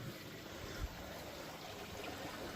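Water gushes steadily from a koi pond pipe onto a grassy lawn, a continuous close, broadband rushing and splashing that holds an even level throughout with no talk.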